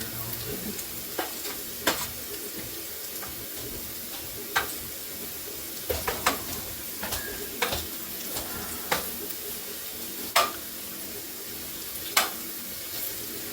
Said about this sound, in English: I'm just giving them a stir here occasionally